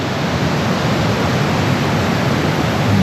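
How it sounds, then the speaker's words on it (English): A waterfall drops off close by in forest near an east coast beach. It makes a steady, even rush of falling water with no breaks and no voices over it. "the waterfall drops off right here by us"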